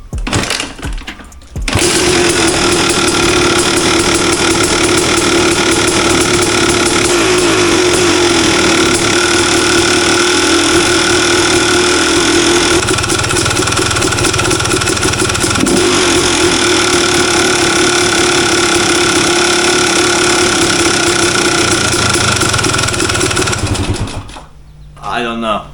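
A rebuilt Yamaha YZ250 two-stroke dirt bike engine fires up for the first time and runs loud and steady at close range for over twenty seconds, with a nasal buzzing drone that rises slightly at moments before cutting off near the end.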